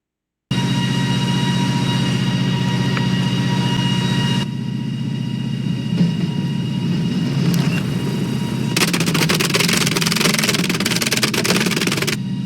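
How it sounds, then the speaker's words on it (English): A farm drone with a low battery tries to take off, its propeller blades clattering against each other over a steady motor whine; a dense, rapid ticking buzz starts partway through and holds to the end. "I tried to take off and the blades started hitting each other"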